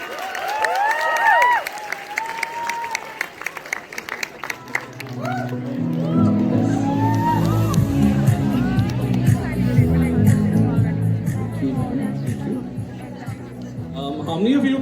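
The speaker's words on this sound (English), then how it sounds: "Huge round of applause for Dharna." After a voice speaks, a large crowd at the Yuvaa Conclave at Bharat Mandapam, New Delhi, breaks into dense clapping and cheering, with a busy hubbub and a low musical drone underneath.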